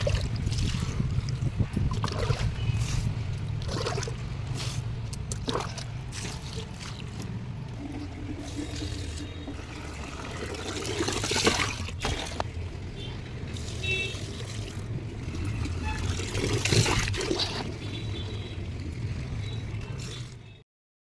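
Water pours and trickles onto potted plants on a rooftop, a steady splashing wash running for about twenty seconds with a few louder surges and scrapes, no voices.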